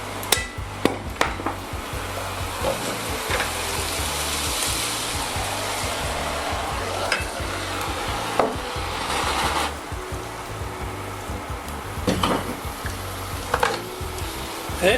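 Sea bream and fennel flambéed with pastis, giving a continuous loud roaring rush of flame with scattered knocks and clatters of the pan, no speech.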